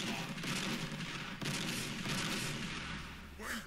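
Gunfire from the Warhammer 40,000: Sanctus Reach strategy game during a battle against an Ork horde, a dense, loud rumble of shots and blasts that runs the whole time with a brief gap near the end.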